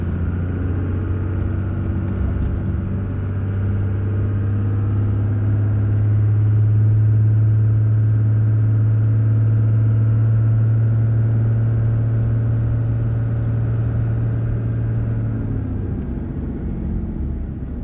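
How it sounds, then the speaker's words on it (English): Steady, loud low-pitched exhaust drone inside the cab of a 2nd Gen Cummins diesel truck with a straight-piped 4-inch MBRP exhaust, held around 2200 RPM as at highway speed, a continuous unbroken hum with no talking. "So now this is the droning that we usually get when we go down the highway"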